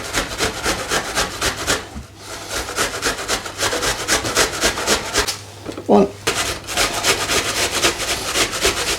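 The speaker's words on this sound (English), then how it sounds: "Use the rough grater. I just find it a lot easier than trying to chop them finely." Vegetables rubbed against a rough grater for a classic curry, giving a steady run of close, rhythmic rasping strokes that continue with only brief pauses.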